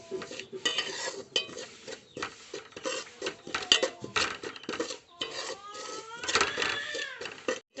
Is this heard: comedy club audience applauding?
no